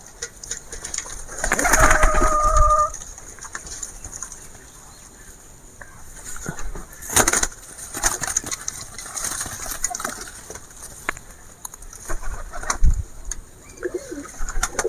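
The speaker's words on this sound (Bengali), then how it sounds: "আজকে সব কবুতরের বাচ্চাগুলো ফাঁকে বার করে দিয়েছি" Pigeons and pigeon chicks cooing nearby, soft repeated low coos and rustling over a faint background hum, with occasional knocks and flutters.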